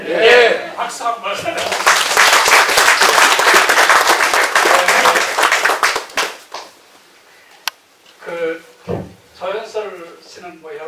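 Audience applause at a Korean book launch celebration, a loud burst of many hands clapping for several seconds before fading, then a voice speaking.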